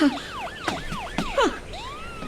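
A police car siren wails in rapid rising-and-falling sweeps, loud and close, cycling about four times before shifting to a longer tone, with no voices.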